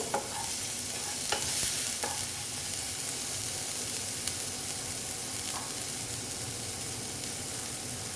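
Soaked mung dal tipped into a pan of frying ground spices, giving a steady, close sizzle with stirring scrapes and a few sharp clicks throughout.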